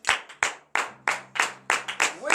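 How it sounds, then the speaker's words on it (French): A congregation clapping and acclaiming during morning prayer in Benin, with loud, sharp rhythmic claps in a steady beat, about eight in quick succession, close by, while voices call out underneath. "Veuillez vous lever sur vos pieds et donner de vives acclamations à notre Seigneur Jésus"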